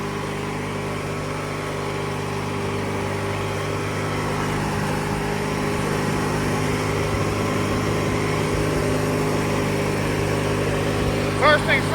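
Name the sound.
1997 MTD Yard Machines riding lawn mower running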